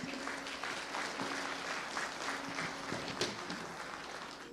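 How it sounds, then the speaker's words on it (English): Steady applause from an audience at an arts and culture festival's opening, a dense even patter of many hands sustained throughout with faint murmurs mixed in. "Give yourself a round of applause for making it."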